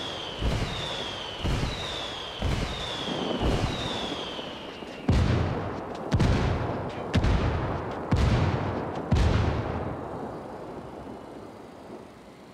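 Artillery from an indirect fire call in the Ghost Recon video game: about nine heavy booming impacts roughly a second apart, the first several preceded by descending whistles, loud and rolling, with no voices.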